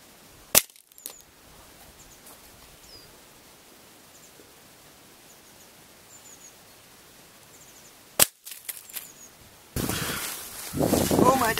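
An Air Arms S310 .22 air rifle fires into a phone in a case, giving two sharp, isolated cracks several seconds apart over a quiet background, followed by a burst of rough handling noise.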